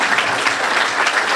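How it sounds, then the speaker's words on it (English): Steady applause from an audience clapping for students at a Kiwanis club event with KKids, a dense even patter filling the whole moment with no voices on top. "Let's give a round of applause for these students."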